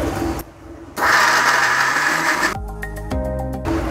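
An electric mixer grinder pulses through roasted chutney powder with ginger and shallots, its motor whining loudly in a long burst, then stopping and restarting in short spurts.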